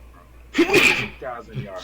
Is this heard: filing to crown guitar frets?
no